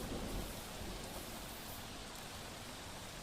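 Heavy rain pours down steadily in Dholka, Ahmedabad, a dense, continuous hiss of falling water on surfaces with no voices, loud and even throughout.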